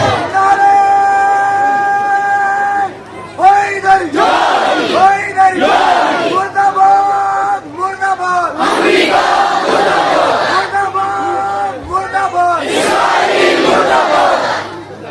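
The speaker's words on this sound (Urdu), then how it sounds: "مل کر نعرے کا جواب ہاتھوں کو بلند کرتے ہیں" Religious education conference crowd answering a slogan chant, loud massed voices shouting back in repeated bursts after a leading call over a public address system, with brief gaps between responses.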